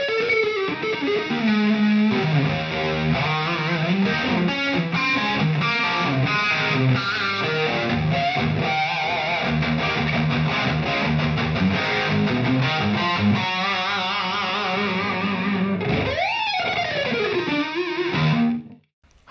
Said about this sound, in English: that was the red channel of the Bogner Ecstasy,